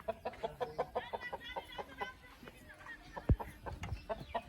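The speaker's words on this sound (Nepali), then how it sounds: "कुखुराहरू" Chickens cluck in a rapid, uneven series at a rural home, fairly close, with a brief louder thump partway through.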